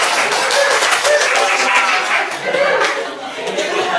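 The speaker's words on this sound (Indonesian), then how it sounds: "beri tepuk tangan untuk kelompok kecil" A small group in a classroom claps loudly and steadily for several seconds, with chatter and laughter mixed into the applause.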